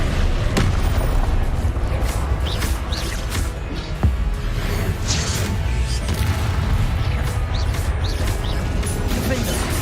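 Confringo blasting-curse explosions in the video game Hogwarts Legacy, dense booms and crashing bursts that carry on without a break and stay loud throughout.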